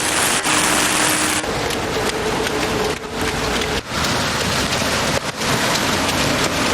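Rain falls steadily during a military march along a city boulevard, a loud dense hiss of drops on surfaces with a few brief breaks and rumbling gusts, no talk.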